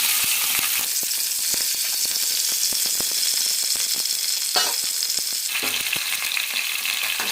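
Chicken pieces frying in well-heated oil, a loud, dense, steady sizzle with crackling pops running throughout, briefly intensifying midway as more is stirred or added.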